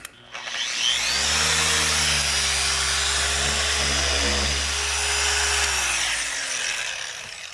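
A 3-inch sander pad grinds on the worn door sill of an E36 BMW M3, whining up to a steady, loud, high-pitched drone that holds for several seconds before spinning down.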